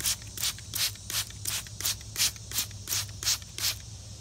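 Mist bottle spraying water onto tissue wrapped around a plant cutting, about a dozen short, close hissing sprays in a quick, even rhythm.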